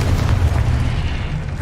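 A Confringo spell explosion in Hogwarts Legacy, a loud, deep booming rumble that fills the whole short moment without any voices.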